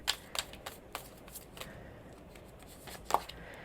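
Tarot cards being shuffled during a card reading, a few quick papery riffles and snaps with quiet gaps between them, close and fairly soft, with no one talking.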